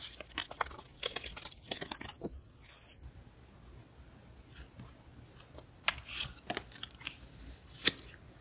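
Brisk papery shuffling and flicking of a tarot deck as a card is drawn, quick crisp bursts early and again near the end with quieter handling between, close up and without talk.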